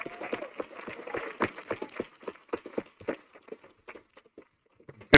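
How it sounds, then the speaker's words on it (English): Scattered applause for music students at a school board meeting in a hall, quick uneven claps that start fairly dense and thin out to sparse single claps before fading. "Please give them a round of applause"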